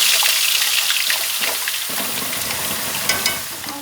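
Hot oil sizzling in a cooking pot for a Lohri festival meal, a steady bright crackle with scattered pops, close and continuous with no talking.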